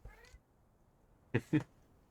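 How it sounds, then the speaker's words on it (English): A cat meows close by, a short call at first, then two quick meows in succession after a pause of near silence. "Whenever you call her name out, she meows."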